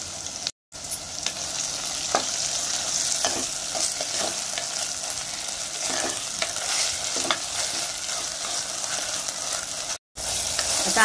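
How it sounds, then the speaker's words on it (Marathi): Ginger garlic paste sizzling with onion and chopped tomato in a pan for veg pulao, a constant close fry with repeated spoon scrapes and stirring strokes, no voices. "आता आलं लसूण पेस्ट चांगली परतून झाले।"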